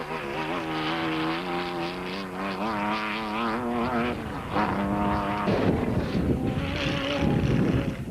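A 2-litre Porsche Raceco race car engine at the Roof of Africa rally, revving with a sustained rising and falling tone, steady and fairly close, with wind buffeting toward the end.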